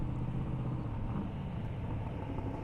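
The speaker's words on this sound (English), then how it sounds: "you've already heard these cars over and over" Race cars run at the Indy Airstrip Attack 2023 event, a continuous low engine rumble from a distance that stays steady and moderately quiet throughout.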